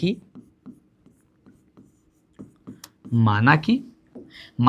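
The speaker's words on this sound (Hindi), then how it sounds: "लेंगे ब्लैक पेन, देखो बहुत प्यार से बनाएंगे, लिखेंगे कि माना" A black pen scratches across paper in short separate strokes while a maths problem is written out, faint and close, with a person speaking in between and over the writing.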